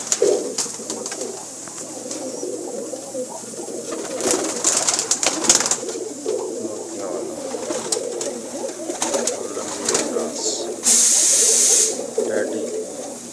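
Pigeons coo steadily and close by in a loft setting, their soft rolling calls overlapping against a constant background hiss, with a brief loud spraying burst near the end.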